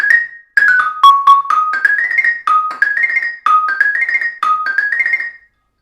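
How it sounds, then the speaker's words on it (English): Inverted double turn ornament on tuned percussion: several quick struck figures, each a rapid cluster of bright mallet notes that settles onto a held tone, played clearly and alone with short pauses between. "some people play it as a double turn an inverted double turn"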